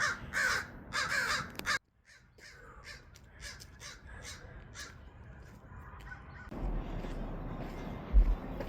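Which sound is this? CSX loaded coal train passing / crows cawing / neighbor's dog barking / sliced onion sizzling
crows cawing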